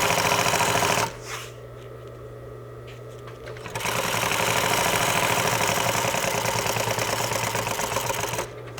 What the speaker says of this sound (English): hold the back threads, and start sewing